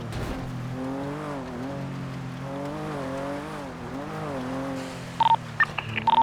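Phone dialing tones in a driving video game, a few short beeps near the end over a steady revving car engine that rises and falls throughout.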